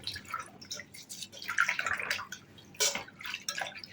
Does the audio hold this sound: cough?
no